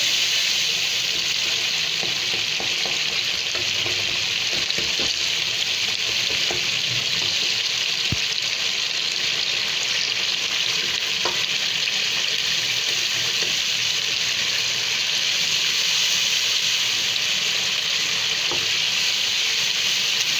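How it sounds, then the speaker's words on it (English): Mashed chickpeas sauté in a pan on the stove, giving a steady, close sizzle and crackle for the whole stretch, with occasional soft stirring clicks and no talking. "So firstly we have to saute it."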